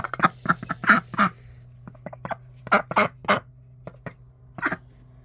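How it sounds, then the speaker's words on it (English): A duck quacks repeatedly at close range on a homestead, bursts of quacks in quick clusters with short pauses, over a low steady hum. "Bloody super duck."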